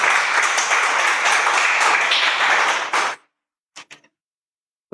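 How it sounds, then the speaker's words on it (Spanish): A church congregation applauds together, a loud, dense burst of clapping that holds for about three seconds and then stops abruptly, followed by a couple of faint clicks. "Denle el aplauso al Señor."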